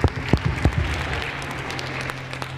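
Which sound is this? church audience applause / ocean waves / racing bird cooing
church audience applause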